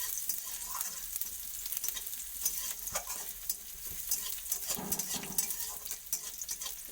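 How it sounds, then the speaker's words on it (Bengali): Chopped onion, garlic and chillies fry slowly in a home kitchen pan, giving a steady close sizzle with frequent stirring scrapes and clicks throughout, and no talking. "এটাকে ভালো করে লাল ভাজা করবো"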